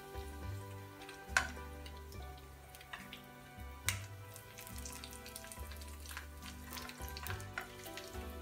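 Kingfish pieces fry in oil with a faint, continuous sizzle and small crackles, quiet beneath a louder tonal background of sustained notes.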